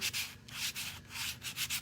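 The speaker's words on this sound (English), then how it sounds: "So I'm giving it a light sanding" Close, rhythmic strokes of sandpaper rubbing back and forth across wood, a soft hissing scrape repeated several times.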